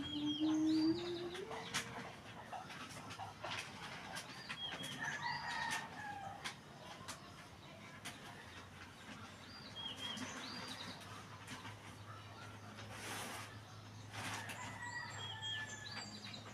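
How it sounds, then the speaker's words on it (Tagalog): Backyard chickens and a rooster at feeding time give scattered clucks and calls, with a crow near the start and a few wing flaps. The birds sound close and there is no talking. "Kapasok ang manok."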